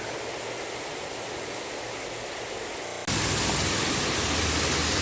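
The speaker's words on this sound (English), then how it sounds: "Here's the river," A river runs fast and strong, a dense continuous rushing wash that jumps suddenly louder partway through, with no voices.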